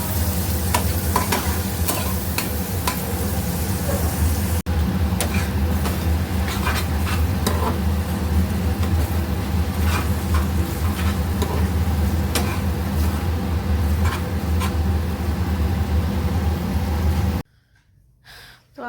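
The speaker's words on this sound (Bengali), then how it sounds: "আর তার সাথে এখন এখানে যে পেঁয়াজ আর কাঁচা লঙ্কা এটাও দিয়ে দিই। ফ্রাই করে বানাই ম্যাগিটা।" Onions and green chillies fry in a pan for Maggi noodles, a loud, steady sizzle with frequent stirring clicks and scrapes that runs continuously, then cuts off abruptly near the end.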